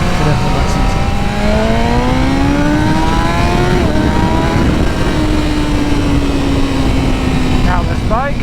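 BMW M1000RR sport motorcycle ridden in race mode, the engine loud and close with a steady high-pitched drone that rises slowly through the gears, a rider's voice briefly audible beneath the engine.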